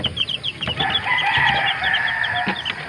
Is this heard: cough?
no